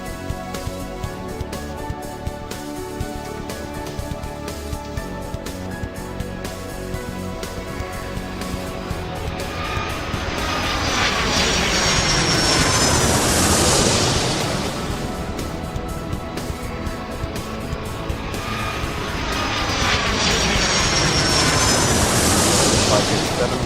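Jet aircraft taxiing and passing at a busy airport in the game Airport Madness 3, engines roaring and swelling in two long waves over a background of music and game sounds.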